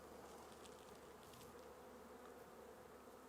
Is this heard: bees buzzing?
yes